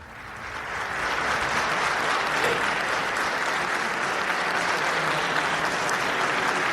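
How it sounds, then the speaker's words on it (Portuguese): Sustained applause for Marcelo Rebelo de Sousa at Palácio da Ajuda, a broad crowd ovation swelling in and holding steady, heard at a distance through a broadcast feed. "Estávamos aqui a ouvir as palmas que nos vão chegando através do som da CNN"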